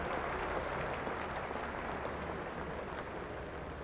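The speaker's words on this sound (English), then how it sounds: "Nasser Hussain gets the applause," Cricket crowd at Lord's applauding batsman Nasser Hussain during the 1996 England versus India Test match; a steady, diffuse wash of clapping, distant and sustained, with no talk over it.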